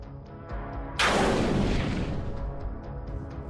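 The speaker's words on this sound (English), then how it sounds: "as soon as the coordinates are passed to artillery, a strike follows" A single heavy artillery strike detonates with a sudden loud boom and long rumbling decay, over faint background noise and a few distant pops.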